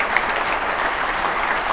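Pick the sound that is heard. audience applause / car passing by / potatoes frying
audience applause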